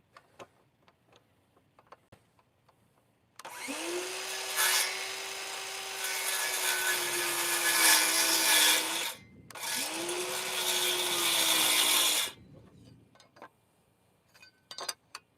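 Cordless saw cuts through store-bought lumber to square the end, a loud steady whining buzz lasting about five seconds, a brief pause, then a second shorter cut, with faint ticks and taps before and after.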